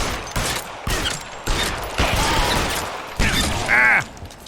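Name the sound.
gunfire in the video game L.A. Noire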